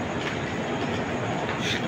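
The Sealdah–Haldibari Darjeeling Mail passenger train departs a platform at Sealdah station close by, a loud steady roar with a faint clatter of wheels on rails.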